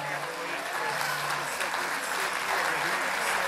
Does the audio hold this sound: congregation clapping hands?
yes